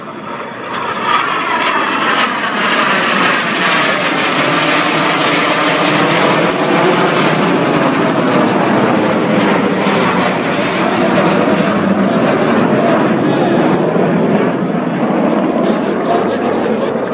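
Red Arrows jets fly the synchro pair opposition barrel roll at a Jersey air display, a loud sustained roar that swells and shifts as the aircraft pass, with commentary heard over it.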